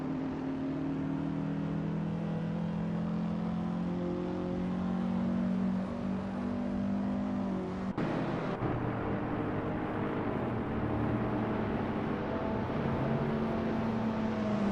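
Race cars drive in a racing video game, engines droning steadily and continuously with layered overlapping tones, a brief shift partway through, moderately loud and uninterrupted throughout.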